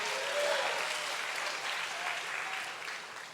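A church congregation applauding loudly during a service, a dense, sustained clatter of many hands clapping together that tapers slightly at the end, with no talking over it.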